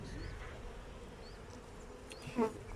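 Honeybees hum around hive frames during a hive inspection, a soft continuous buzz with a brief louder burst near the end.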